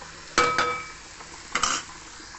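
Metal spoon scraping and clinking against a pot while cooked rice and curry are served out, two short bursts of clatter in a quiet kitchen.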